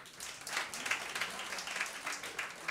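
A comedy club crowd claps steadily in dense, fairly quiet applause that lasts the whole moment, with no voice on top.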